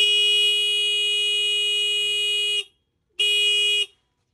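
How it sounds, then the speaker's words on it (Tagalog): A loud, steady electronic motorcycle anti-theft alarm tone blares for over two seconds, stops, then sounds again briefly, shrill and piercing. "Yan yung pinaka-alarm niya."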